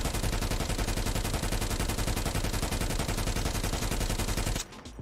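Krig 6 rifle fire in Call of Duty Mobile, a loud, continuous rapid-fire burst of closely spaced shots lasting several seconds before cutting off abruptly.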